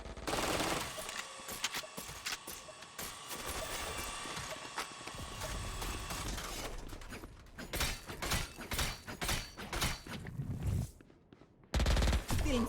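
Sniper rifle fire from a Marshal in a Valorant esports match, heard as sharp cracks and bursts through dense game action and noise, with several distinct loud hits toward the end.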